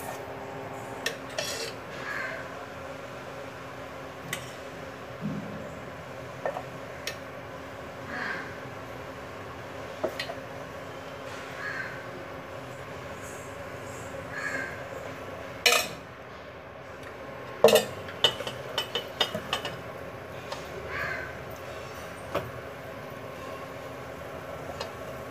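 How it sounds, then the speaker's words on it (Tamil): Ghee and flour porridge stirred in a pan, a quiet ongoing scrape of a spoon against metal with occasional light clinks, close up and without voices. "இப்போ மாவு ஊற்றிடலாம்."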